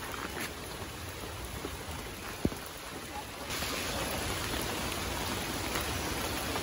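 Heavy rain pours steadily outdoors during a shrimp-fishing trip, a dense continuous hiss of rainfall that grows louder partway through, with a sharp knock near the middle and no voices.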